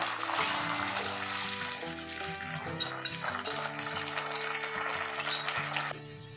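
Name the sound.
washing a bowl with running water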